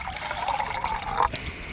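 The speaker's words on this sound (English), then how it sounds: "I'm just going to pour some water in my cup for a drink." Water poured from a container into a cup at a woodland camp, a continuous close trickle and splash that rises briefly then stops abruptly.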